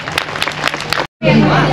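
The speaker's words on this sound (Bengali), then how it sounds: "আরে জোরে হাততালি দেই।" An audience claps loudly in a burst of scattered, uneven hand claps that stops abruptly, followed by voices and other noise.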